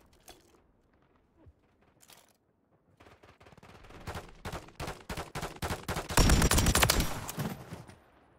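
PULEMYOT 762 machine gun fire in the MW3 video game: a few scattered shots, then sustained rapid bursts that build into a loud, dense stream of automatic fire, close and without voices.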